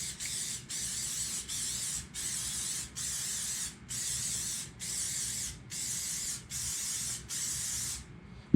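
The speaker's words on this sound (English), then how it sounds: "You want to spray it up all nice in there." Cooking spray hissed into a pan for an egg-cup breakfast in about nine even, close bursts of roughly half a second each with short gaps, ending in a brief knock.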